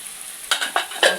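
Peas and vegetables sizzle in a hot frying pan, and three quick bursts of stirring or tossing break through the steady, crackling fry.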